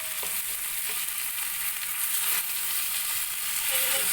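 Spices and ingredients frying in hot oil for an egg curry, a steady close sizzle with faint stirring clicks throughout, no talking.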